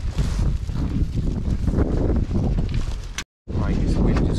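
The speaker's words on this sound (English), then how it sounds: "this wind is horrible" Strong gusty wind buffets the microphone outdoors during a Mini Clubman JCW coilover fitting, a loud continuous roar with a brief dropout near the end.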